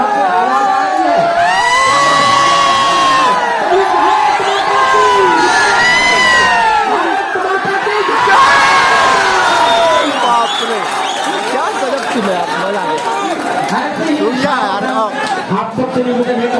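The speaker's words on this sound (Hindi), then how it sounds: "कोरबा के खिलाड़ी छुइया के मैदान पर काफी शोरगुल, दर्शक की आवाज आ रही है।" Spectators cheer and shout loudly at a village kabaddi match between Korba and Chhuiha, with a dense, continuous roar of crowd noise, whoops and children's yells carrying across the ground.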